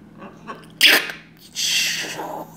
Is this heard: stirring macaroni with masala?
no